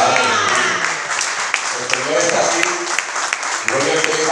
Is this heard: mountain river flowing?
no